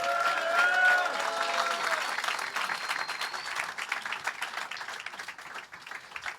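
Warm applause from a theater crowd at a stand-up comedy show, loud at first with a few whistles and cheers, then gradually thinning into scattered claps and murmurs.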